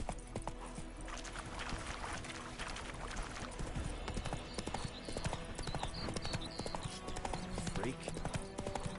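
Roach the horse gallops in Witcher 3 Wild Hunt, with rapid rhythmic hoofbeats clip-clopping steadily and close throughout, mixed with game ambience and a brief voice.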